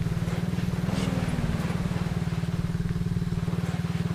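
An ATV engine in the Subsistence video game labors uphill in low gear, a steady rapid throbbing putter, loud and close, with a slight rise in pitch midway and no talk over it.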